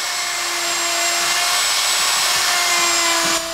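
A handheld drywall router spins at a steady high whine as its bit cuts an opening around an electrical box in drywall. The close, continuous hum carries faint scraping underneath and stops abruptly near the end.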